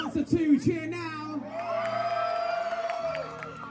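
An audience at Comic Con Abu Dhabi erupts in cheers and whoops for Dancer 2, following a brief loud shout, with a steady roar of yelling voices holding for several seconds.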